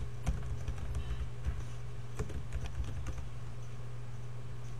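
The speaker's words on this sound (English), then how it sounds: "Now we're going to type in" Someone types steadily on a computer keyboard, with close, clicking keystrokes in irregular bursts over a low steady hum.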